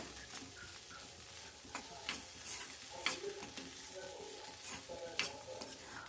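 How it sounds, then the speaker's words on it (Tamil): Bitter gourd poriyal being stirred in a pan with a little country jaggery, giving soft scraping strokes and a light ongoing sizzle, with a few sharper clinks of the spoon against the pan. "கொஞ்சமாக நாட்டு சக்கரை சேர்த்து அதையும் அதோட கிளறி விட்டுக்கலாம்"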